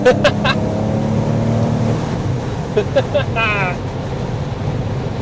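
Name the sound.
Porsche 911 Carrera 996 engine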